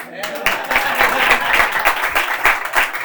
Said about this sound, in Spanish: es la parte donde hay que aplaudir